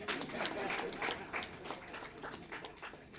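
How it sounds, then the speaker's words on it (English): An audience at a Ugandan communications consumers' parliament claps in a scattered, uneven burst of applause, moderately loud, with some crowd murmur mixed in. "Give me a hand clap."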